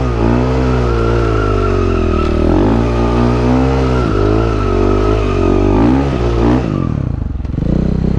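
A supermoto motorcycle powerslides with its rear brake locked, the engine droning and revving steadily under a long skid before the tone drops away near the end; no voices.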